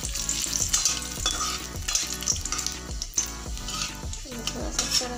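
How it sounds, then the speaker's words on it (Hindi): Dry red chilies, garam masala and bay leaves sizzling in hot oil for chole, with loud crackling and spattering and repeated clinks of a spoon stirring the pan. "तेल हमारा गर्म हो चुका है, इसमें डाल देंगे लाल मिर्च, सूखी लाल मिर्च, ये थोड़ा सा गर्म मसाले और ये 2-3 तेज पत्ता"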